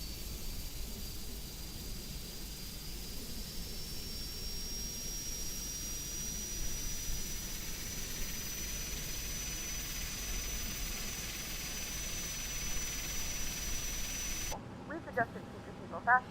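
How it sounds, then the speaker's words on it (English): Engine number 2 on an ATR72-600 turboprop starts up with a steady broadband roar and a faint rising whine that holds for most of the clip, then drops away abruptly near the end. "Alright, we have a good start on engine number 2."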